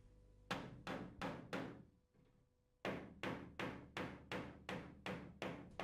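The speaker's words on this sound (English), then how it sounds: "the nails can be hammered completely in" Nails are hammered into timber beading with steady, evenly spaced blows. There is a brief pause before the strikes resume, each one close and sharp.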